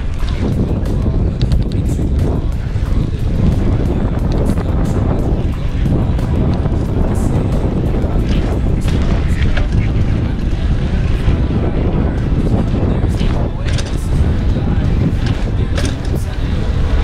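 Gusty wind buffets the microphone of a Cannondale Trail SL2 bicycle on a test ride outdoors, a continuous loud roaring rumble that swells and dips in bursts for the whole stretch, with no clear speech.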